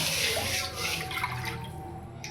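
Water being poured into a dry pan to start sugar syrup for laddu, a steady close splashing and trickling wash with a faint bubbling edge, no voices.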